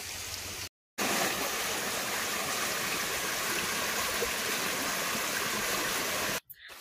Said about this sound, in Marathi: नितळ थंडगार पाणी खुळखुळ्याचा आवाज करत 2 महिने सतत वाहत असतं.